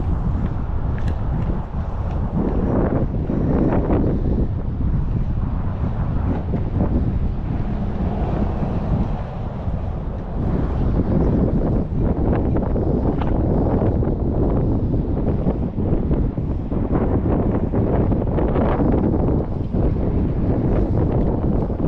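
Strong wind buffets the microphone beside a small pond, a constant loud rumbling roar with gusty swells that drowns out any other sound.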